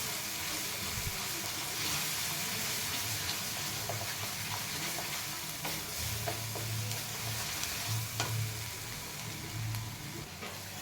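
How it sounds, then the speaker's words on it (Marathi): Dabeli masala paste with tomato sautéing in a pan, with a quiet continuous sizzle and intermittent stirring scrapes, faint and close, with a low hum underneath. "मसाला आपण छान परतून घ्यायचा"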